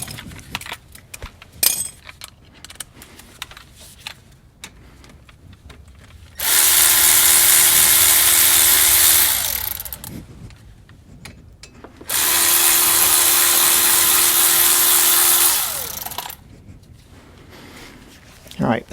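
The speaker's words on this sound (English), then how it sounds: "you should be able just to switch to a power tool" A power tool spins out front brake caliper bolts on a Chevrolet Sonic in two loud, close, high whirring bursts of about three seconds each, with clanks of tools and someone talking between them.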